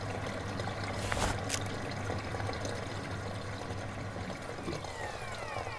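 Liquid pours from a tank cleaner in the video game Mortuary Assistant, a steady trickling stream over a low background hum, faint and continuous with no talk.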